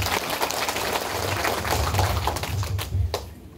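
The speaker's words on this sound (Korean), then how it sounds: "큰 박수 한번 부탁드리겠습니다." Crowd applause at a Korean Parents' Day event for seniors, as a guest honorary mayor is welcomed; dense, steady clapping from a large audience fills the room for several seconds at moderate volume.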